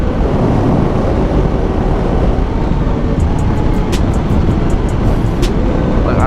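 A 2017 Honda CBR500R cruises in sixth gear at around 4,000 to 5,000 RPM, a steady low engine drone under loud constant wind rush, with a few faint ticks near the end.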